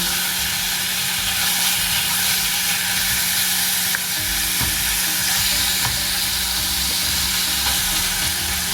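Pieces of cut lamb shoulder, about 1.5 kilos, hiss and sizzle loudly and steadily in a hot pot for biryani, with a continuous frying crackle, a hum underneath and occasional stirring knocks.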